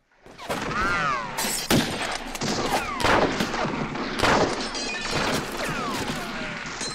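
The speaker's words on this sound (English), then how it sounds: "Why would you just start shooting into the building?" Gunfire from the 1971 film Billy Jack, with repeated loud sharp shots cracking over a steady, busy soundtrack, several bursts in fairly quick succession alongside whooshing and ricocheting sounds.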